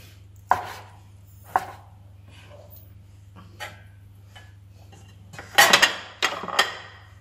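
Cooked chicken is chopped on a board while preparing chicken pho: a few sharp, isolated cleaver chops, then a quick cluster of heavy strikes near the end, all close over a low steady hum.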